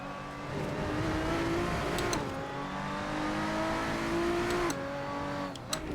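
Race car engine in a racing video game revs steadily and loudly for several seconds, pitch rising and falling with gear shifts and brief sharp ticks on top, no voices over it.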